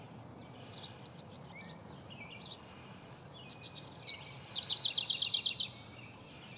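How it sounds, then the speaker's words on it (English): Birds of several kinds call and chirp on a farm with a garden and horses, bright twittering bursts coming and going before a denser run of rapid repeated notes, fairly distant over a faint outdoor hush. "Birds of all kinds."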